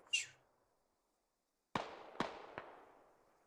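Incoming mortar fire in a multiplayer war game lands as three sharp, distant cracking blasts in quick succession, each trailing off in a long echo, after a brief faint chirp in near silence.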